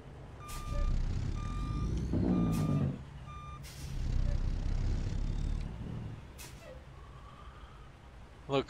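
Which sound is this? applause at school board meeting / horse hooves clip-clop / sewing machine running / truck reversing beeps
truck reversing beeps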